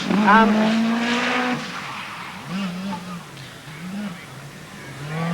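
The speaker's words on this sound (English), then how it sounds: "this is Mikael Eriksson in another of the Group B cars, another of the Lancia Delta S4s" A Lancia Delta S4 Group B rally car, driven by Mikael Eriksson on the 1986 RAC Rally, revs and surges in repeated rising-and-falling bursts. The engine note is moderately close and sits beneath a commentator's voice.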